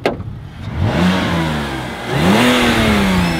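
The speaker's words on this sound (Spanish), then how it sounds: "Acelera ahora." A BMW E60 car engine revs up twice with the hood open, the pitch climbing, dipping, then rising again into a sustained roar, loud and close.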